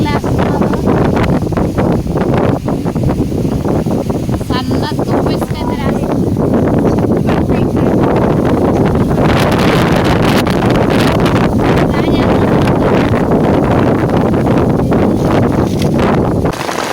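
Strong, steady wind at sea roars and buffets around a fishing boat across the whole stretch, a constant broadband rush with gusty bursts, with voices talking over it.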